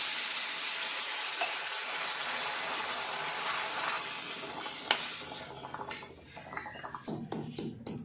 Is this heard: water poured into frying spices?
yes